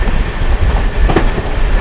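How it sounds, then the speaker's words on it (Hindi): Shiv Ganga Express, the Banaras to New Delhi superfast train, runs past another train, giving a steady loud rumble with faint clickety-clack of wheels on rail joints throughout, heard close by from on board. "ओवरटेक मार रही है ये अपनी ट्रेन शिवगंगा एक्सप्रेस"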